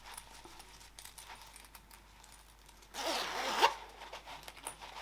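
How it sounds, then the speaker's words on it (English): A zipper on a sewn pouch is pulled closed in one quick, close, rasping stroke about two seconds long, following quiet handling noises. "I'll zip it up."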